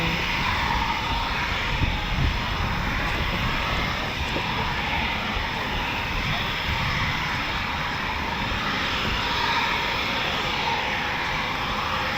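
RAF Typhoon FGR4 fighter jets at RAF Coningsby produce a sustained, loud, broad jet engine roar that holds steady for the whole stretch, heard from outdoors with no talking over it.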